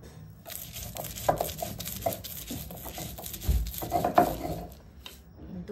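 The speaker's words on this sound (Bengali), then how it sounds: "তো দেখো এইভাবে আমি বেটে নিচ্ছি।" Soaked, sticky lentils are ground into paste by hand on a stone slab, with irregular wet scraping and crunching strokes of varying loudness, close up and without speech.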